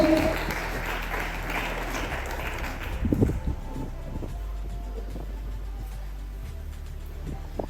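Applause from an audience at a French-language event as an MC welcomes coach Kanda Gal, a dense burst for about three seconds that then thins and fades under a quieter room.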